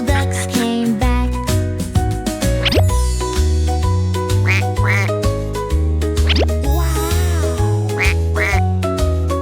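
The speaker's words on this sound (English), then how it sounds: "Mama duck said quack, quack, quack" Cartoon duck quacks repeated in rhythm within a bouncy children's song about little ducks, over bright synth music with sung vocals.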